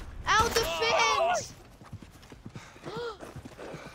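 Horse hooves clip-clop as a horse approaches in the Western video game Red Dead Redemption, a rhythmic trotting beat heard under excited shouting voices.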